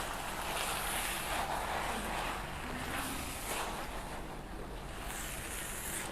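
A little water goes into a pan of wilting cassava leaves being cooked for rendang pucuk ubi, producing a steady, fairly close broadband hiss and sizzle that continues evenly throughout with no talking.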